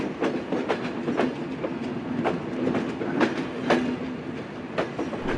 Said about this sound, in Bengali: যাত্রা বিরতি শেষ করে আমাদের ট্রেনটি কোটচাঁদপুর রেলওয়ে স্টেশন ত্যাগ